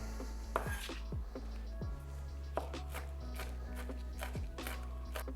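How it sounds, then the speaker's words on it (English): A knife chops softened vegetables on a cutting board for a Thanksgiving dinner, making a run of close, irregular thuds and taps with a faint low hum underneath. "now I'm just gonna give this all another chop"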